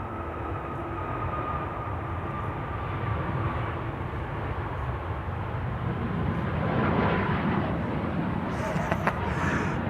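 An Airbus A350 roars at Amsterdam Schiphol Airport, a broad, steady engine rumble and rushing noise that swells slightly toward the end, heard from a distance with a voice speaking faintly over it.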